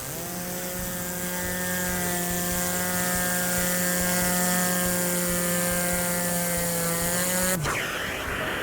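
A Tornador air cleaning gun hooked to a Velocity-Vac extractor whirs at a steady pitch with rotating, ratchety buzzing for several seconds, then cuts off abruptly into a brief hiss.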